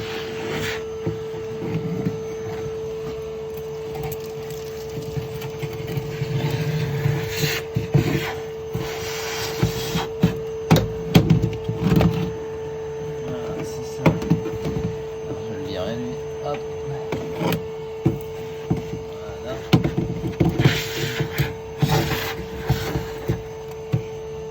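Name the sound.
vacuum cleaner cleaning a Peugeot 205 car floor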